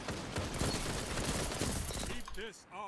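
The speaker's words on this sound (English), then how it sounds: "It's actually a good pulse rifle because of the rate of fire." Rapid, continuous pulse rifle fire in Outlast, a dense run of close, loud shots that stops abruptly near the end, followed by faint whooshing game effects, with a voice talking underneath.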